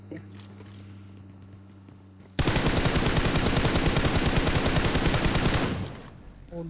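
Rapid automatic gunfire sprays from a weapon in PUBG Mobile on the Miramar map, a loud, dense burst of shots lasting about three seconds before cutting off, with quieter game ambience before and after.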